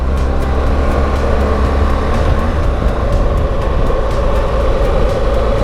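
Motorcycle climbing a mountain road, a loud steady engine drone with low rumble and wind noise throughout, sounding close from the rider's position.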